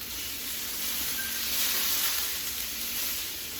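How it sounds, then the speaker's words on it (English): Onions sauté in a pan in a teaching kitchen, giving a continuous soft sizzle and hiss that swells slightly in the middle and stays steady at moderate, close-up volume. "As soon as you start sauteing onions, right, it just makes every dish delish."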